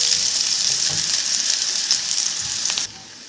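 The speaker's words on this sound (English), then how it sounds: "Onions and the garlic going in at the same time, and I'm not going to let it brown" Onions and garlic sizzling in hot oil in a home kitchen pan, a steady bright frying hiss with a soft stir or two, cutting off abruptly near the end.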